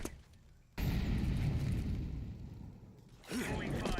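An incendiary grenade in Counter-Strike goes off with a sudden whooshing burst, then settles into a roaring, crackling flame that slowly fades, before a voice speaks near the end.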